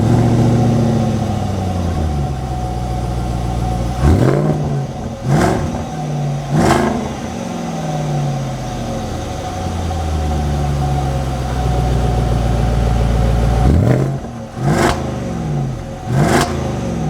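A 2021 Jaguar F-Pace SVR engine rising and falling through repeated pulls, loud and close, with rising pitch sweeps broken by sharp gear-change breaks and a steady drone between.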